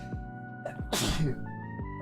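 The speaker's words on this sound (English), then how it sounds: "Oh man, I'm gonna sneeze again." A single loud sneeze bursts out close to the microphone after a couple of short breaths, set against a steady background hum.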